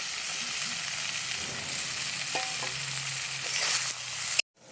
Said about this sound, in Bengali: রসুন ধনে পাতা সমস্ত কিছু দিয়ে এটাকেও ফ্রাই করে নেব